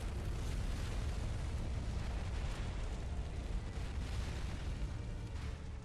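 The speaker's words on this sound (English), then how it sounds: "it devastated the capital with a massive, spell-powered bomb" A massive spell-powered bomb devastating a capital city in the video game Fuga: Melodies of Steel 3, heard as a sustained, loud, rumbling roar of explosion that fills the whole stretch without letup.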